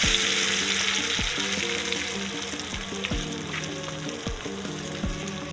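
Oil sizzles steadily in a pan as onions fry for a dal tadka with cumin, with soft metallic scraping of a utensil stirring at intervals.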